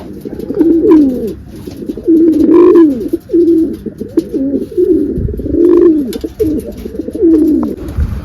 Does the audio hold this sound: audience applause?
no